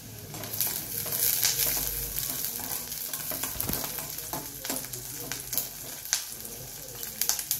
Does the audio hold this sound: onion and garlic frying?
yes